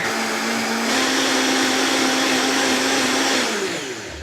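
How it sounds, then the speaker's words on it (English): A kitchen blender whirs loudly and steadily as it purees a herby green goddess chicken marinade, shifting up in speed partway through before winding down at the end. "You always start slow if you have a blender with many speeds, and then you build up speed, and that way everything gets mixed in."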